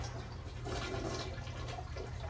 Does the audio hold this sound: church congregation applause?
no